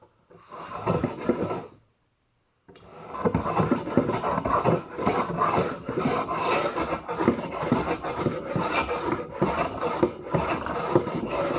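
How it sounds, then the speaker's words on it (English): Wood jointer planing a rough-sawn board that still shows table-saw marks, for a bathroom vanity build. A short burst of rasping cut, a brief silence, then a long, steady, loud planing roar with rhythmic pulses. "I'm going to go straight to the joiner."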